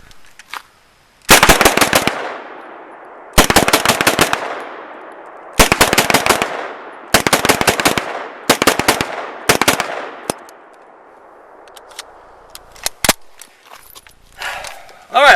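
An IMI Uzi short-barreled rifle fires six loud, rapid bursts of automatic fire close by, each sharp string of shots separated by a second or two of decaying echo, with a few single clicks and handling noises afterward.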